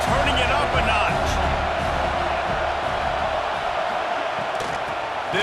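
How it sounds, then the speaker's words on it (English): A football stadium crowd roars in a constant loud wash of cheering during a Boise State game, with scattered whoops and a voice talking over it. "Here comes second down, and this crowd is turning it up a notch."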